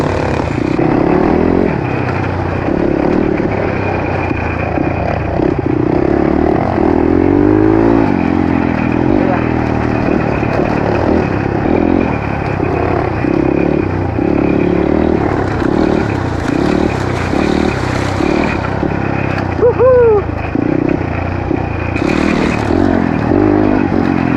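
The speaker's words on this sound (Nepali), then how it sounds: "बाइक आयो" A motorcycle engine roars up close and revs, with road rumble, clatter and wind noise; a voice speaks briefly in the background.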